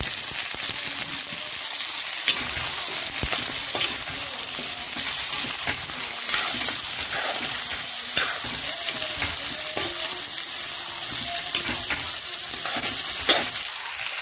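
Dal and vegetables frying in a pan, a continuous close sizzle with scraping stirring strokes recurring throughout, no voices.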